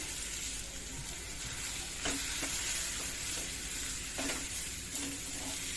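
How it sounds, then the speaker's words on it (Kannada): White rice tossed with sambar powder in a pan for capsicum rice makes a quiet hissing sizzle punctuated by occasional spoon scrapes and taps, with no speech. "ಚೆನ್ನಾಗಿ ಮಿಕ್ಸ್ ಮಾಡ್ಕೊಳ್ಳಿ."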